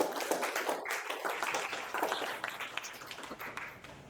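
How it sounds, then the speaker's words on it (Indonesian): A small classroom group claps briefly during a university teaching session on router configuration, a faint, scattered patter of hands in a quiet room. "Tepuk tangan untuk Mas Ardi"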